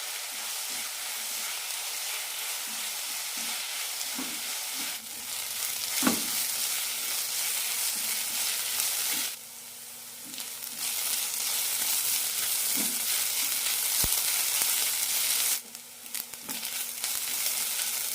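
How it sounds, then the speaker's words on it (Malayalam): Sliced onions sauté in a pan until golden, a steady hiss of frying with occasional soft stirring taps, and the sizzle briefly dropping and returning, with no voices. "സവാളയ്ക്ക് നല്ല ഗോൾഡൻ കളർ വരുന്നത് വരെ വഴറ്റണം"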